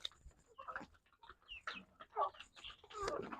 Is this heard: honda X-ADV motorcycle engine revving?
no